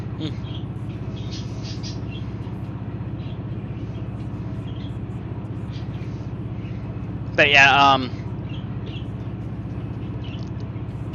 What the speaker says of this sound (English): jeez, this train is loud at points.